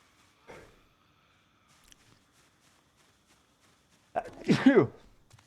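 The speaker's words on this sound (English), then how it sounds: "Sorry, I had to sneeze there, team." A single loud sneeze near the mic, preceded by a soft sharp intake and scattered faint rustles in otherwise quiet surroundings.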